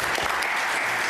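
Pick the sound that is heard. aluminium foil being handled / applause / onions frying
applause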